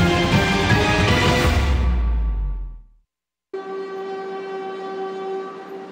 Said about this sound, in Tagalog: Ito na ang mga huling tren na aalis mula dito sa makasaysayang PNR Tutuban Station sa Maynila